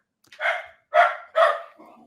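Dog barking nearby, three sharp, loud barks in quick succession followed by a softer trailing grumble, with no other sound around them.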